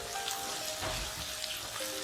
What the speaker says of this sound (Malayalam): ആ തേങ്ങാക്കൊത്തും കൂടെ അതിലേക്ക് ചേർത്ത് കൊടുക്കുക. ഒന്ന് വഴറ്റിയെടുക്കുക.